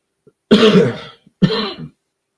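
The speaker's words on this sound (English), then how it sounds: "Sorry, I'm coughing all of a sudden." Two short, harsh coughs close to the microphone, separated by a brief pause.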